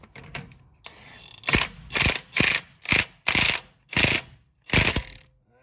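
Ratchet tightening a sway bar bolt on a second-generation Cummins diesel truck, seven loud, close bursts of rapid clicking at an even pace, each about a third of a second long, with a softer click or two beforehand.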